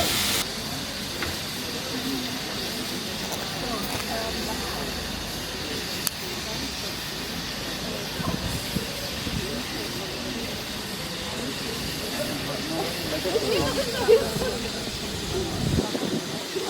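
Steam locomotive hissing steadily at a station platform during a spring steam gala on a heritage railway, a broad continuous wash of steam and rail noise with a station announcement heard over it.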